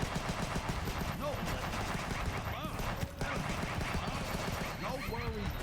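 Rapid gunfire from the Huntdown video game rattles on continuously, loud and dense throughout, with a character's voice talking over the shooting.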